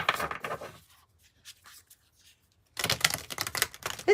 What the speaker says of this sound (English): Let's get another good shuffle